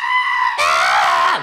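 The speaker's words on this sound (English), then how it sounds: "I don't think that there will ever be anything funnier than a screaming goat." A goat screams loudly at close range in one long, harsh, drawn-out cry that breaks into a shriller, strained pitch midway and then trails off abruptly.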